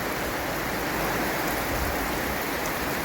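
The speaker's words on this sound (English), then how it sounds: "The rain is torrential." Torrential rain pours steadily on the Camino de Santiago, a dense, loud, unbroken hiss of heavy drops with no voices.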